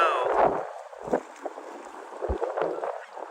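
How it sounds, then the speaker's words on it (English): Wind gusting outdoors on a Brooklyn street in New York City in January, buffeting the microphone in uneven rumbling bursts with faint voices at the edges. "It's windy out here."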